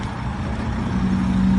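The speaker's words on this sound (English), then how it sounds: "Here we have the truck approaching, where approximately 300 animals are stacked into this truck." A livestock truck loaded with about 300 animals approaches, its engine a steady low rumble that builds slightly in loudness, with a sustained low tonal drone and no talk over it.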